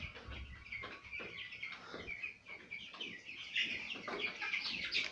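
Three-week-old broiler chicks in an indoor poultry house keep up a steady chorus of chirps and peeps, close and busy throughout, over faint low background noise.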